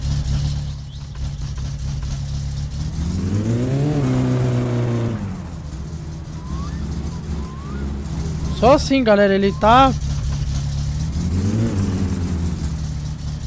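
A Datsun Satsuma car engine in the game My Summer Car revs up and falls back in repeated surges, pulling to the left, with someone talking briefly over the steady motor drone.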